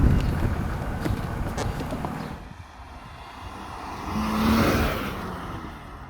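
A 1990s BMW car driving on the road gives off a broad engine and road roar that drops away briefly, then swells again as it keeps moving.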